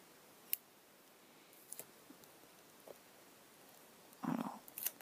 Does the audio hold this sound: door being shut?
no